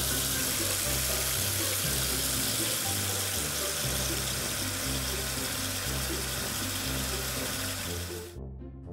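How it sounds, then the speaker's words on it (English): Water runs from a sink tap for hand washing in the Roblox Bloxburg game, a steady loud rush that continues almost the whole time and then cuts off abruptly at the end, under a looping background tune. "Just need to wash my hands."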